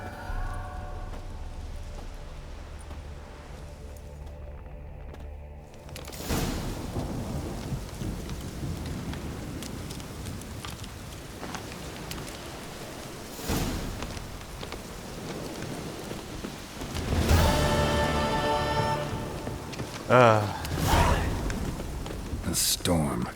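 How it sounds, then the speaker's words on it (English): Thunderstorm with heavy rain in the video game The Witcher 3, a steady downpour hiss with loud rolling thunder cracks and rumbles arriving in bursts, some voices talking early on. "A storm, damn it."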